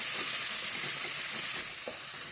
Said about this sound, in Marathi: आता हिचा कच्चेपणा जाईपर्यंत आपल्याला तेलात हे चांगली परतून घ्यायची आहे।